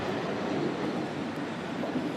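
The Mont-Blanc Express rolls along its rails with a continuous rumbling, rattling wheel noise, steady and moderately close, with no voices over it.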